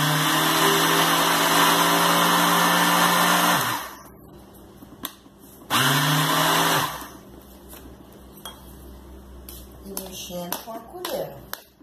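A blender whirs loudly in two pulsed bursts while mixing cappuccino ingredients, a long run of about four seconds and then a shorter one, with quieter clinks and handling noises in between.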